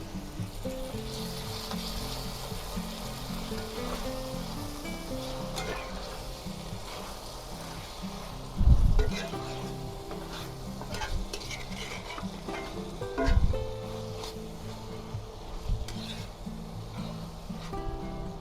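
Minced garlic hits a chicken stir-fry pan, giving a continuous close sizzle with stirring scrapes and two louder clattering bumps of the spatula partway through, with no one speaking.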